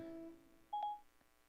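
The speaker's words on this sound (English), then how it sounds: "Let's see if I can get Michael on the phone. How do I do this? Call Michael Getz mobile" A mobile phone placing a call, with a faint short beep, a louder tone pair and a soft final blip heard alone in a quiet setting.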